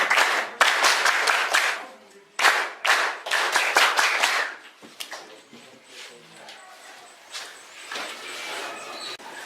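Students clap their hands in a classroom at a high school in Gambella, with bursts of brisk, close claps in a couple of groups, then scattered claps and a few voices as the room settles.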